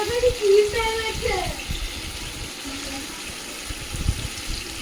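Water is poured into a pan of tel koi fish curry, a soft continuous splashing gush close by, with a voice briefly audible near the start.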